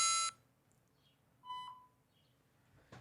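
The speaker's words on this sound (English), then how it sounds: "Let me hear everybody's beep sound to make sure everybody's loud enough." A loud electronic buzzer beep held close to a microphone opens with a bright burst, followed by a fainter second tone and soft handling noise.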